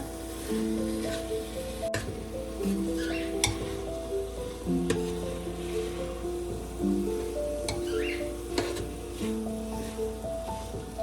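Rice and dal roast in a sizzling tadka in a pan for dal khichdi, a steady close frying hiss with scraping stirring strokes and occasional knocks of the spoon against the pan.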